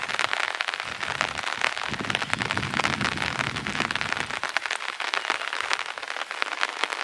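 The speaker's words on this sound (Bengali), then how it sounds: "এখনো গুড়ি গুড়ি বৃষ্টি হচ্ছে।" A steady wash of light drizzle falls beside a railway line in a wetland village, with dense, continuous patter on surfaces close by and no voices.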